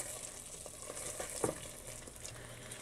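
Carrot halwa being stirred in a pan, a quiet continuous sizzle with soft scraping strokes of the spoon and one slightly louder clack midway.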